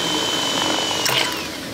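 A power drill drilling metal whines at close range, its high pitch shifting as it bites, then the motor winds down over under two seconds.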